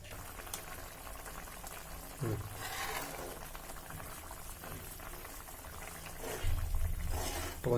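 Onion theeyal, a Kerala-style small onion curry, boils steadily in a pot with a continuous bubbling simmer, and louder surges of bubbling rise near the start and again toward the end.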